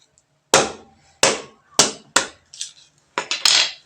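A large round betel nut is cut with a knife in several sharp chopping strokes, about seven loud close hits at uneven intervals, each ringing briefly before fading, with no talking.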